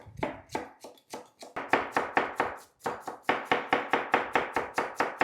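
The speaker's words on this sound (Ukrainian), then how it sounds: "Її потрібно нашинкувати дуже дрібно. Ось так беремо і шинкуємо." Young cabbage shredded finely with a knife for homemade shawarma, heard as a rapid, steady run of close, crisp blade taps on a board that speeds into an even rhythm, with no talking.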